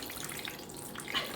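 Water leaks from holes in a container and trickles faintly and steadily into more water, with a few soft drips near the end of the short stretch.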